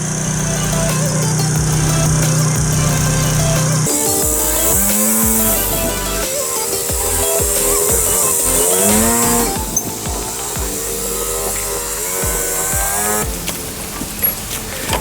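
A small scooter engine runs after getting a new battery. It idles with a buzzing drone, then revs up and down repeatedly with rising and falling whines, loud and close.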